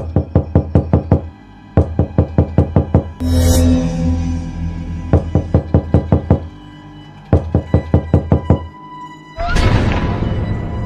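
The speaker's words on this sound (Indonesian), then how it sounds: "Tetapi suara ketukan itu datang lagi." Knocking on a metal wok, delivered in quick bursts of four to eight sharp raps, with pauses in between and a rushing noise at two points. The knocks are loud and close, with no voices.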